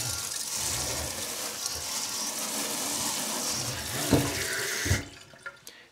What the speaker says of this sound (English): All we're going to do now is add a little bit of water.